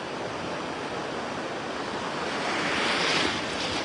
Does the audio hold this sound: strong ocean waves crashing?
yes